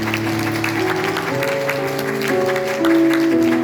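At a Sunday church service, the congregation claps to welcome a newlywed couple. The steady applause runs under sustained keyboard chords and grows louder near the end.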